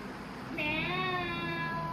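A cat lets out a single clear, drawn-out meow close by, starting partway in and tapering off, over a quiet background.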